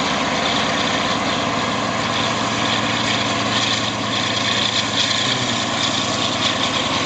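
A train locomotive engine in Train Simulator Classic drones loud and constant, a dense throbbing rumble with a steady vibrating pulse that holds without a break for seven seconds.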